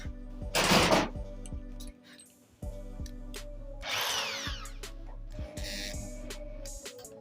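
A drill bores a small hole, with a couple of loud, close whirring bursts of a few seconds each over a steady low machine hum.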